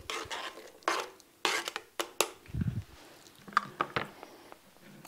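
Diced small onion tipped into beef stroganoff in a crockpot, giving scattered clatters and soft rustling thuds with a low plop midway, close and moderately quiet.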